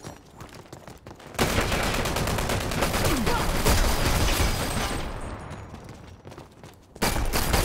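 Rapid automatic gunfire from the online shooter Dirty Bomb, a dense sustained burst lasting several seconds at close range, then a brief lull and another burst starting.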